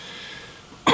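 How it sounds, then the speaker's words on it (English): A single harsh cough from a man with a chest cold bursts out near the end, close and loud after a stretch of quiet room tone. "Probably hear me cough a lot."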